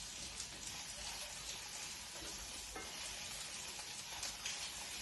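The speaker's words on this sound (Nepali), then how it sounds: "त्यसलाई चाहिँ अब एकछिन हल्का रातो हुने गरी" Garlic and ginger fry gently in a pan until lightly browned, a faint, even sizzle with soft crackles and an occasional stir, with no talking.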